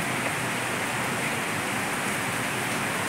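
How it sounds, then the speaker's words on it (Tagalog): Heavy rain in Hong Kong, a loud, dense, steady hiss of downpour with no breaks and no voices. "Lakas ng ulan sa Hong Kong, oh."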